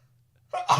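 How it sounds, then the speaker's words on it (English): A woman's single close sneeze bursts out after near silence, a sharp intake followed by a loud explosive release. "That's my girlfriend sneezing."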